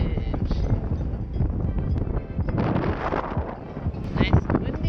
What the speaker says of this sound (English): Nice and windy.